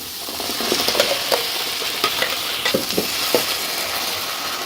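Tomato puree with onions is stirred in a pan over high heat, with a steady sizzle and repeated sharp scrapes and taps of the spoon against the pan, close up.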